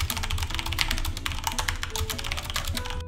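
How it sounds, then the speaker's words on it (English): Typing on a Corsair K70 mechanical RGB keyboard with aluminum body and Cherry Red switches, a fast, close stream of clacking keystrokes heard alone with no voices. "it's still a mechanical switch, so yeah, there's gonna be some noise"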